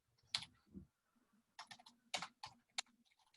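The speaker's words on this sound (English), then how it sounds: "ignore it for a moment, my crappy typing." Typing on a computer keyboard into a document during an online workshop, heard as short bursts of sharp key clicks separated by pauses, close and fairly quiet, with no talking.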